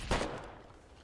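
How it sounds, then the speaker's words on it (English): Small arms gunfire in the video game Foxhole: a single sharp burst early on, then a decaying rumble that fades over the remaining second, with no voices present. "quit shooting our tank with your small arms fire there, fella"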